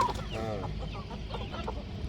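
Aseel fighter chickens and large roosters cluck close by in short, repeated bursts against a busy, noisy outdoor background.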